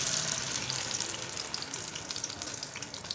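Beef frying in a pan with a paste of ginger, garlic, tomato and green chili, a steady loud sizzle with hissing crackle, continuous and close, no voices.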